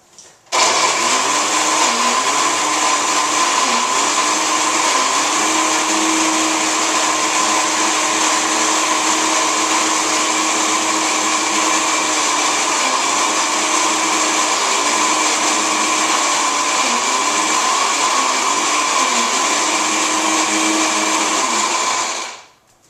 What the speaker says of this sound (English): And we'll just keep mixing and blending.